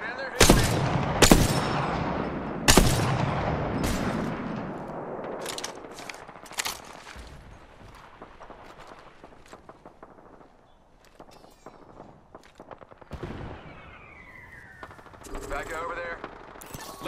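Video game gunfire rings out in loud sharp bursts early on, then thins to scattered, fainter shots with occasional reload clicks and a brief whooshing sweep near the end.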